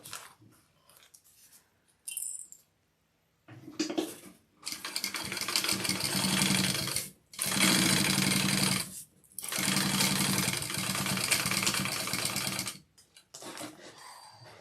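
A home sewing machine bastes a band onto a garment, running in several close, steady whirring bursts separated by short stops, with quieter handling noises before it starts.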